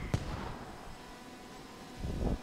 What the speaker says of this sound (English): Mortars coming down.